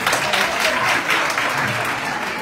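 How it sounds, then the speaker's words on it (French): Hall audience at a debate event breaking into sustained applause, a thick, even roar of clapping close and loud throughout. "La salle, on peut l'applaudir s'il vous plaît."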